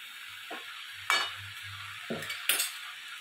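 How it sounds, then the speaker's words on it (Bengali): Chhenchra vegetables fry in a pan as a low sizzle hisses steadily, interrupted by four sharp metallic scrapes and clinks of a ladle stirring, the loudest near the middle and end. "হালকা করে এটা নেড়ে নিতে হবে।"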